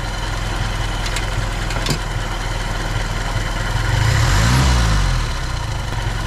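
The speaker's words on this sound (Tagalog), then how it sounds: "Gusto ko yung idle na ganito, mababa lang siya" A car engine idles with a low, steady rumble throughout, rising briefly in a gentle rev near the middle before settling back.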